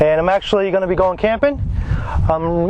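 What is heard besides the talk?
None of the usual background noises is heard.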